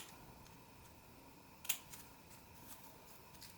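Scissors cut through folded paper to make bat feet for a Halloween craft, one distinct close snip standing out against a faint steady background hiss.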